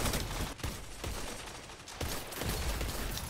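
Scout rifle fire in the video game Destiny 2's Iron Banner mode, with dense, loud bursts of repeated shots and brief pauses between volleys.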